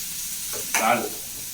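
A brief burst of hot-oil sizzling as mustard seeds and curry leaves hit the pan, crackling for about half a second before settling back to a faint hiss.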